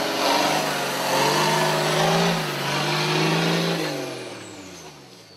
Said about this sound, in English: Winching now.